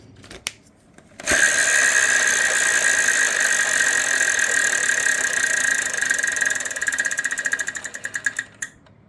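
Wheel of Fortune video game wheel spinning, a steady bright ticking whir that starts abruptly after a soft click, holds loud and even for several seconds, then slows into separate clicks before stopping.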